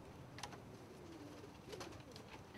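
Low, soft cooing from a South German priest pigeon, a fancy domestic breed with unusual coloring, repeated in a few faint, close calls over steady background noise.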